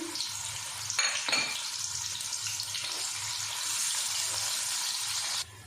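Whole spices and finely chopped onions hit hot ghee for chicken pulao, giving a steady close sizzle with stirring clatter against the pot and brief utensil knocks, continuous until a sudden stop.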